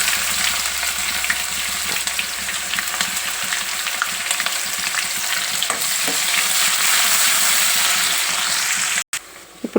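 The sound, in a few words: onions frying in a pan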